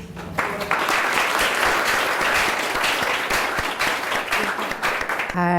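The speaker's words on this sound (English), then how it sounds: "So a big applause." An audience claps at the end of a class session, sustained broadband applause for roughly five seconds, fairly even and close, with a brief tonal sound at the very end.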